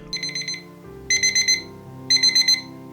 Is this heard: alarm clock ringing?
yes